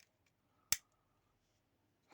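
A Platinet PMPB72LG power bank's casing is cut into during a teardown, giving one sharp, close snip in otherwise near silence, followed by faint small handling sounds.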